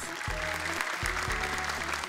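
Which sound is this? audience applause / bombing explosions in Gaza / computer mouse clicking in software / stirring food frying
audience applause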